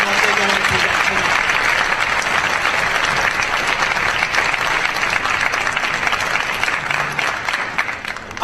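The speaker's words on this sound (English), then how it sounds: "start this evening with a big round of applause for all of our student performers" An audience claps for student performers at a national honors music festival, a dense, sustained wave of applause filling the hall from start to finish before tapering slightly at the end.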